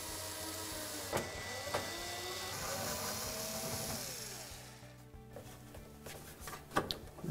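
A power screwdriver whirs steadily as screws come out of the blower housing of a front-control Samsung dryer, rising and falling in pitch. A few metallic clicks and clunks follow as the whirring stops.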